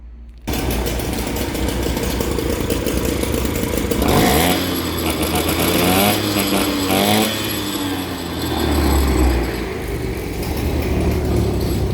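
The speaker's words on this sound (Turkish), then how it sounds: "Makineler ikisi çalıştıralım. Bir de öyle dinletelim." Two Motobecane Mobylette mopeds with 22 T6 and 17 T3 engines run together, a loud, steady two-stroke buzz with revs rising and falling, close by.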